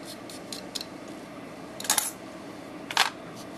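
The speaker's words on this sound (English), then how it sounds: "I'm going to use my craft knife and just scrape in some orange" A craft knife scrapes orange chalk in a few short, crisp scratches, two of them brighter and sharper, set against a quiet room.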